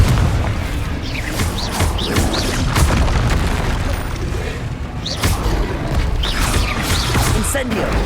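Explosive Confringo spell blasts in Hogwarts Legacy, a dense barrage of booms and crashing impacts with sharp bursts throughout, loud and continuous, mixed with battle clatter and sparkling magical effects.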